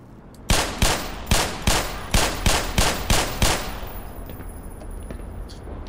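Enemy soldiers fire shotguns in Black Mesa: about nine loud, evenly spaced blasts, each with a sharp crack and short echoing tail, then a lingering reverberant fade.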